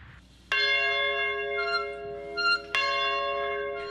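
A morning school bell rings across a historic Black boarding school campus in Piney Woods, two clear resonant strikes with sustained ringing tones that decay slowly, echoing alone in a quiet setting.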